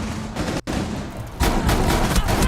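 Shotgun fire in a video game while players defend a biohazard container. Loud, dense blasts and rattling gunfire run through the whole stretch and swell heavier in the second half, with one brief dropout early on.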